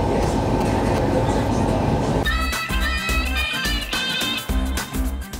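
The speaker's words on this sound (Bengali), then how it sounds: "দেখো ওদিক থেকে ট্রেনটা বেরিয়ে চলে যাচ্ছে" A passing train rumbles loudly beside the moving Bhagirathi Express, with rhythmic wheel clatter and rolling rail noise that rises sharply midway and runs on to the end.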